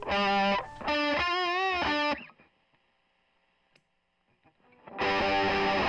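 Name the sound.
electric guitar through Bishop Pedals Big Treble treble booster pedal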